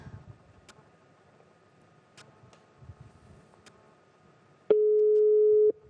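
A telephone call goes unanswered: a few faint clicks and ticks on a quiet line, then a single steady electronic tone sounds for about a second near the end.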